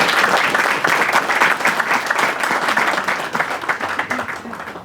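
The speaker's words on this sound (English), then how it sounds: "Let's give them all another round of applause." A school-assembly-style crowd gives the students a hearty round of applause at a hospital topping ceremony, dense clapping that starts loud and slowly tapers off over several seconds.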